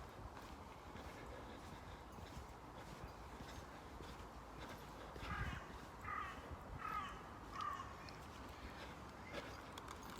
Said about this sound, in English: There's the crows of Crow Tree.